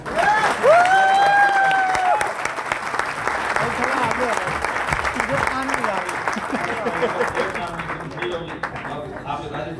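Audience at a driver training event applauding, a dense sustained wash of clapping with a brief whistle near the start, loud and steady before slowly thinning out.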